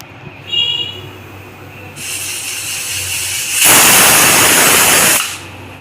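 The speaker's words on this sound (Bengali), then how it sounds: "এখন কুকারে পাঁচটা থেকে ছটা সিটি দিয়ে নেব" A pressure cooker boiling lentils lets out steam: a soft hiss builds, then a loud, close whistling rush holds for about a second and a half before dropping away. No one speaks.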